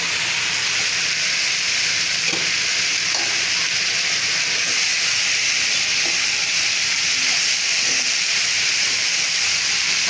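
Beef tripe cooking down with chili in a pan in a village kitchen, giving a loud, steady frying hiss and sizzle that runs throughout, with occasional faint scrapes of stirring underneath.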